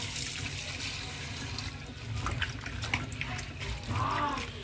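Vegetables being washed under a running kitchen tap, a steady stream of splashing water with faint clatter, moderately loud throughout.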